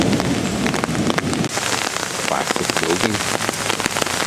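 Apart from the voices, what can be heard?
rain falling in a park in Medias, Romania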